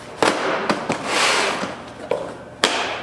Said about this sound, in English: snap together, so you can carry multiples.